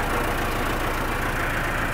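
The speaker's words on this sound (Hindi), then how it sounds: "ਹੁਣ ਚਲਾਓ ਜਰਾ, ਅੱਗੇ ਕਰੋ ਟਰੈਕਟਰ ਲੈ ਕੇ ਜਾਓ ਅੱਗੇ" A modified Massey 385 tractor engine runs steadily at idle, a loud, even diesel rumble with a rapid low thud, close by and alone without talk.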